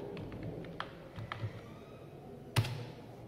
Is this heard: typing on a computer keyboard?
yes